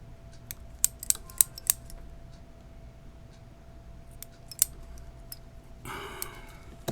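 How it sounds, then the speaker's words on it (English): Scissors snipping the flap on a fly-tying hellgrammite pattern, with a handful of sharp, close clicks of the blades spaced irregularly and a short rustle near the end, otherwise quiet. "Gonna just cut that flap off right over top of the eye."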